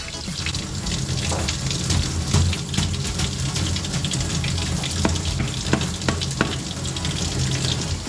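A paint brush is rinsed under a running tap into a sink, giving a steady rushing splash with small spattering bursts as the bristles are worked, close and continuous with no speech.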